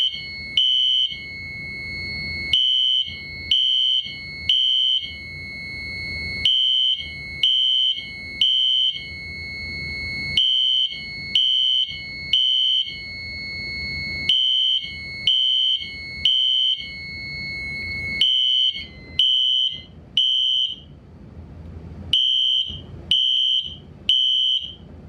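A FireLite MS10UD fire alarm system sounds after a pull station is pulled: loud, close electronic horn blasts in a steady repeating pattern of short tonal bursts with brief gaps, continuing alone throughout.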